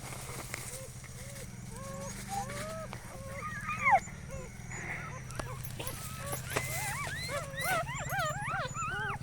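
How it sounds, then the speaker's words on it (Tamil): A puppy whimpers and whines in repeated high, wavering cries over a constant low hum, with a voice murmuring in the background. "நாய்க்குட்டி பாருங்கள் எவ்வளோ க்யூட்டாக கற்றுது"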